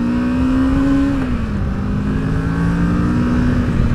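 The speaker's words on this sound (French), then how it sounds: "La Versys prend franchement facilement ses tours." A Kawasaki Versys 650 (2020) motorcycle engine revs steadily and loudly, its pitch climbing then dipping and holding, with a continuous mechanical drone and no talking.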